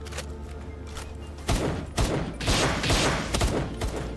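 A minigun firing in the video game Palworld, heard as dense, rumbling bursts of rapid shots with heavy thuds that grow louder and more continuous toward the end.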